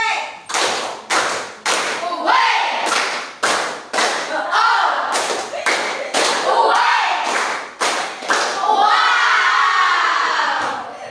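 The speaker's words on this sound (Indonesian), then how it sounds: "Ice breakingnya itu tentang tepuk WOW" Children in a classroom perform the tepuk WOW clapping chant as an ice-breaker, a run of sharp loud unison claps and thumps in a patterned rhythm, mixed with shouted chant calls and ending in a drawn-out group cry.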